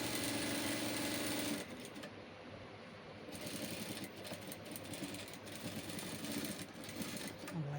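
A sewing machine stitches a collar onto a school uniform, whirring in a steady, close burst for about a second and a half before giving way to quieter fabric handling and faint rustling.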